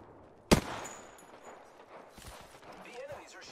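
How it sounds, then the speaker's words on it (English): Enemy gunfire in Apex Legends, a single sharp loud shot followed by scattered fainter distant pops and shuffling, with a voice speaking over the later part. "The enemies are shooting at me."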